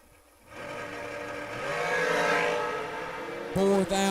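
Drag race cars launch down the track at a memorial race, with a loud engine roar that rises and holds for several seconds before a sharper burst near the end.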